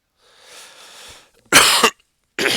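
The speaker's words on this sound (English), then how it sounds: "I'm sorry to cough in your ears" A faint breathy exhale, then two sharp, loud coughs close to the microphone, separated by a short pause.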